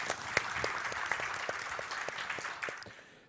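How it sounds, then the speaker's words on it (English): A conference audience applauds the panelists after a session on the main stage, with a steady patter of many hands clapping that thins out toward the end as it fades away. "let's get a round of applause for the panelists"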